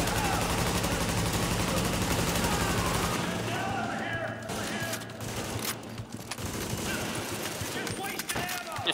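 Sustained automatic gunfire from The Division, with a dense crackle of many overlapping shots through the first three seconds and scattered bursts continuing afterward, mixed with game effects and some voices in the background.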